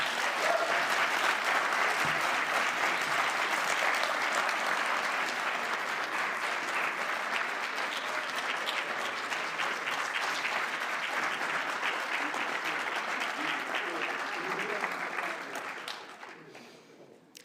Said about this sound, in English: Can we get another round of applause for Angela?